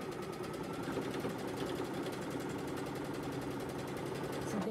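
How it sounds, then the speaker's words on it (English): A sewing machine pushes through thick layers of fleece fabric for a hat, keeping up a steady, close rhythmic whir with rapid needle strokes throughout. "Now that's a lot of fabric, so take it easy on your machine."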